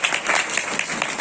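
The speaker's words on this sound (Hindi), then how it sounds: "तालियां बजा दो।" An audience claps in a brief burst of dense, steady applause.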